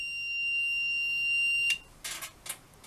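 The FireKnight 1000 flame sensor alarm sounds a steady, piercing high-pitched electronic tone that cuts off abruptly partway through, followed by a few brief softer noises in near silence.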